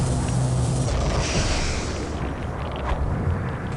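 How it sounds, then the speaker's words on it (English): A heavy explosion rumbles through a fight in American McGee's Alice, with a loud, sustained low boom and crackling debris filling the whole stretch before slowly easing off. "Yeah, that final explosion does do a bit of damage."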